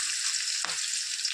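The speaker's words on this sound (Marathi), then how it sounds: "आणि हा घेतला आहे मी कांदा कापून, एक छोटासा कांदा फोडणीसाठी. तर आपण ते तेलात टाकूया." A small chopped onion hits hot oil for an egg curry tempering, bursting into a loud, steady crackling sizzle with a brief splash as it drops into the pan.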